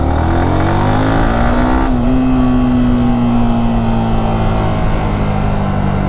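Close, steady engine drone from a Yamaha R15 motorcycle with an abnormal rattling fault, running continuously with an even tone and no talking.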